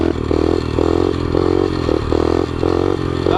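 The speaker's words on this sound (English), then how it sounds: "That was me shifting gears." A motorcycle engine runs steadily and loud, its note rising and dropping in short repeated surges as gears are shifted, with clattering mechanical noise underneath and no talk.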